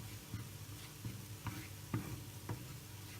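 Chili and coriander powder heat gently in a pan over low heat, with a quiet sizzle and a regular series of soft spatula taps and scrapes from stirring.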